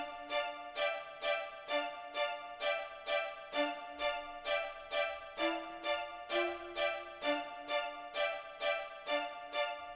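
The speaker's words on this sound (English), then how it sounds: "I came up with a super simple pluck kind of melody for this." A simple looping pluck counter melody from an AX Strings Stack synth for a beat, short bright notes repeating in a steady even rhythm, clear and alone.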